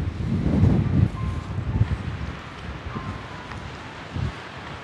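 Gusty wind buffets the microphone in low rumbling surges that rise and fade, loud at first and easing off toward the end.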